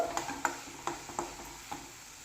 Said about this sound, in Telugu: ఇందులో ఒక చిన్న టమోటా వేసుకుందాం ఇలాగ ఉల్లికారంలో టమోటా వేసుకుంటే చాలా టేస్ట్ ఉంటుంది ఈ టమోటా కూడా బాగా వేగిపోవాలండి